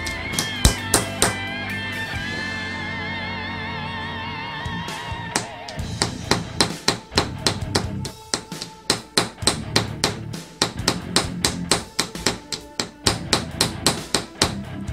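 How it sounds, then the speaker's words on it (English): Chisel tapping and chipping at the plaster block of a Discovery Kids dinosaur excavation kit, first under a dense music-like tonal bed, then as a steady run of sharp, close, repeated knocks. "I'd use your chisel."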